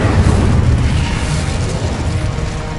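An Incendio fire spell cast in the game Hogwarts Legacy, a dense, loud roaring burst of flame and rumble sustained for a few seconds, with no talk.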